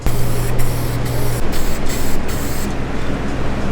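Paint is spray-painted onto a plywood shotski, a loud continuous hiss in several bursts with brief pauses between them, and a low hum running underneath.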